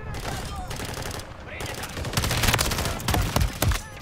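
Rapid automatic gunfire in a Call of Duty match, dense bursts of loud overlapping shots that build toward the end, with faint game noise underneath.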